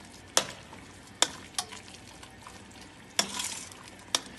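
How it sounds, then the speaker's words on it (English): Bucatini pasta being finished in hot amatriciana sauce in a pot, with a steady close sizzle broken by several sharp clanks and scrapes of stirring. "We're finishing the pasta in the hot sauce."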